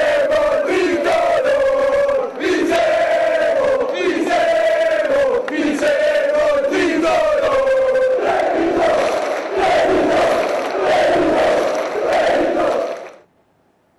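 Basketball fans chant together at full volume, rhythmic shouted phrases from a large crowd repeating in waves, loud and close, before the noise cuts off abruptly near the end.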